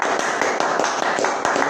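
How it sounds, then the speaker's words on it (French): A church congregation applauds in rapid, dense clapping that goes on steadily for the whole moment, close and loud, with a faint murmur of voices mixed in. "Applaudissons pour le Seigneur."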